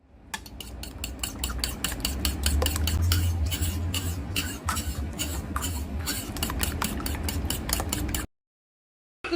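A utensil stirs a beaten egg to mix it, with rapid, regular metal clinks and scrapes against the dish. The egg is being cooked on a hot street in the sun. The stirring carries on close and steady, then ends in abrupt silence.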